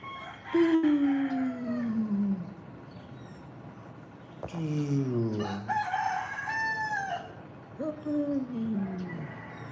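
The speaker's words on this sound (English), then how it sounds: "A couple roosters over there." Several roosters crow outdoors in the Philippines, three long drawn-out calls in succession, some overlapping, fairly close and loud with no talking over them.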